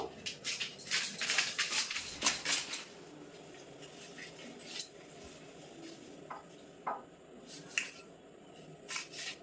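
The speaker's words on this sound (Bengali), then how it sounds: "এই মাছটা কেটে নেবো এই যে মাছটা কিন্তু কাটা খুবই সহজ প্রথমে মুড়োটা কেটে নেব" A knife cuts through a fresh pangas fish on a board, a series of sharp clicks and taps near and fairly loud, busiest at first, then sparser single knocks with a faint background hum.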